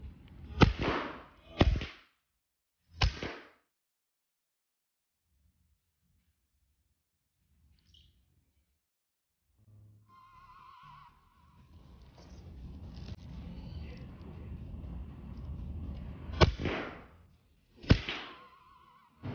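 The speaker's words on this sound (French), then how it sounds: "je vous mets les tirs à la suite pour voir les résultats" A Sig Sauer MCX Virtus PCP air rifle firing: sharp, loud cracks, three in quick succession, then a quiet pause and a stretch of background noise, followed by two more crisp shots close by.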